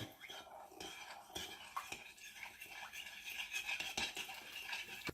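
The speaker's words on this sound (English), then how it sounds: "Stir that around a bit." A spoon stirs cornstarch and tap water in a cup or bowl, scraping and clinking lightly against the sides in a steady, close-up rhythm with faint background noise.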